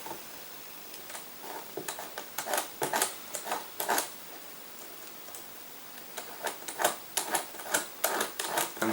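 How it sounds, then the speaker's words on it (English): Screws are tightened on a motor mount of a Tamiya Grand Hauler RC truck, heard as bursts of quick, sharp clicking and ratcheting close by, with short pauses between bursts and no talk. "Go ahead, tighten up them screws."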